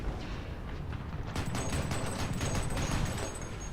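Tank cannon fire from War Thunder, a combat video game: low, rumbling gunfire with a sharper burst partway through, under a continuous dense roar of battle noise.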